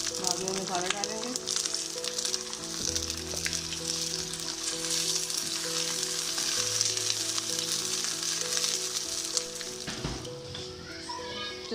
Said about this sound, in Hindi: चिकन को हमने अच्छी तरह भून लिया।